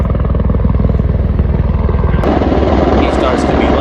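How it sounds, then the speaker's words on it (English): An Airbus A-Star light helicopter flies close by, its rotor thumping loud and rhythmic throughout, with a rougher broadband roar taking over partway through. "That's an A-star, that chopper."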